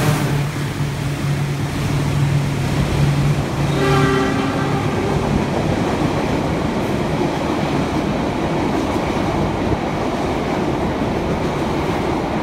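The KA Sritanjung passenger train rolls along with a loud, steady roar of wheels and carriage noise, and a horn sounds in the first few seconds before the rumble carries on alone.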